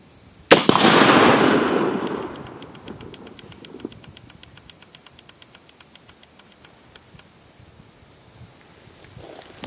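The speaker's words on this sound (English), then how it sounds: "We have 20 rounds of M80 ball through this M14, 40 meters." A single loud M14 rifle shot of 7.62 NATO M80 ball fired at an AR500 steel plate from 40 meters, a sharp crack with a long decaying rumble, followed by faint clicks and light handling noise.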